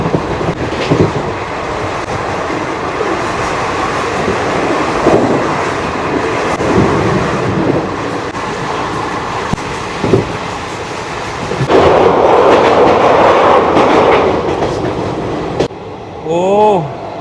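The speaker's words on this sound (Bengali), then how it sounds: "ব্যান্ডেল স্টেশন ছাড়ার সাথে সাথে দারুণ স্পিডে ট্রেন চলছে" The Hool Express passenger train runs at speed after leaving Bandel, a loud, continuous rumble and rattle of wheels on track with clattering bursts, ending in a brief burst of high tones.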